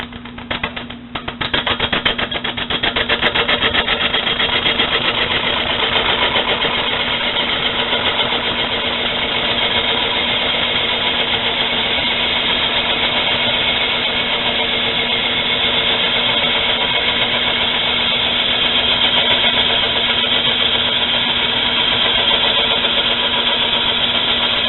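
A wood lathe turns an end-grain bowl while a tool rides the bevel in a straight cut, producing a constant motor hum with a steady scraping drone that runs evenly throughout after a brief rough start.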